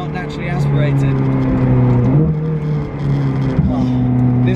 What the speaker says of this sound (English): Everyone who says a 488 doesn't sound good, it's not true. It's a very good sounding car.